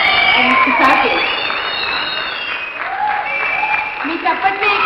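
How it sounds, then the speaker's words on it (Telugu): An audience claps at an engineering college tech fest, dense close applause holding throughout with some cheering, and a voice talks over it. "మీ చప్పట్లే ఇక్కడ మంగళ వాయిద్యాలండి"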